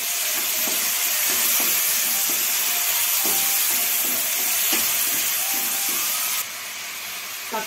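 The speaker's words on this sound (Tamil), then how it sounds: "கருவேப்பிலை வதங்கி எடுத்து தக்காளி சேர்த்துக்கலாம்." Curry leaves and tomatoes sauté in a pan for a sambar, sending up a loud, steady sizzle and hiss with faint stirring knocks. The sizzle softens slightly near the end.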